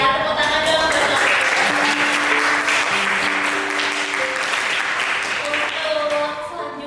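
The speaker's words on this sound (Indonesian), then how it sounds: "Tepuk tangan dong." Steady applause from a class audience during a public speaking lesson, continuous clapping that gradually tapers off toward the end, with faint voices underneath.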